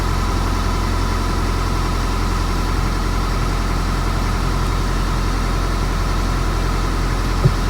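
A Mini Countryman engine idles steadily with no throttle input, a constant low hum and drone close by that stays even throughout, with no speech.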